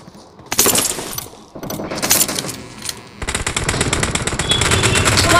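Automatic gunfire in the mobile game PUBG Mobile rattles out in loud, rapid bursts, two short volleys with brief pauses, then a longer sustained stream of fire, with no talking.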